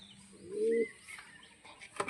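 A pigeon gives a single short, faint coo in a loft where a newly arrived, wing-clipped bird is being coaxed down, with a few soft chirps and a sharp click near the end.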